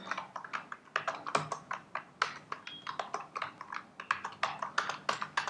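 Rapid, uneven keystrokes on a computer keyboard while typing in a terminal, a steady run of crisp close-up clicks with brief pauses and no talking.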